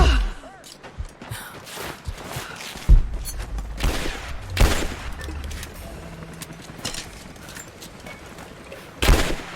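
Gunfire in Rise of the Tomb Raider Survivor Mode, scattered loud shots and short bursts with deep booming impacts, mixed with game effects and shouting voices.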